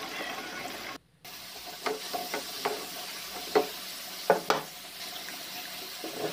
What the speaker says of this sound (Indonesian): Kemudian kita akan goreng kentangnya.